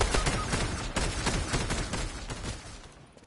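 Rapid gunfire from a multiplayer shooter video game, dense overlapping shots in a sustained fusillade, loud and close, easing slightly toward the end.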